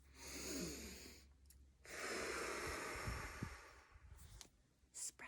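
A child's deep breath out, blowing as if scattering dandelion seeds across a yard, comes as a couple of long breathy whooshes, close and soft, with short gaps between them.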